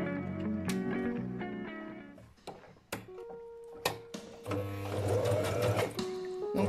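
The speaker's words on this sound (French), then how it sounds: "C'est à peu près à partir d'ici que vous allez devoir tourner votre tissu avant qu'il arrive au niveau de l'aiguille." A domestic sewing machine stitches fabric along a strip of masking tape, running in steady rapid bursts with brief pauses and clicks while the cloth is turned, heard close and fairly quiet.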